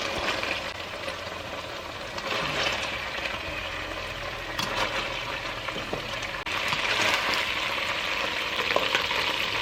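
Thick pieces of beef fry in a pan with a steady, dense sizzle and crackle, close and continuous, with occasional stirring clatter.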